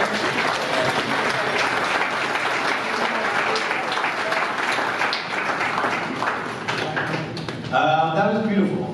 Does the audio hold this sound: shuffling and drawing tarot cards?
no